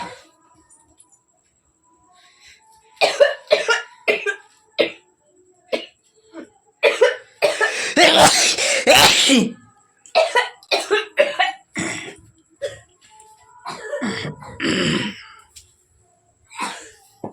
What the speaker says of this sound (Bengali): এত কাশি হইতেছে কিসের জন্য?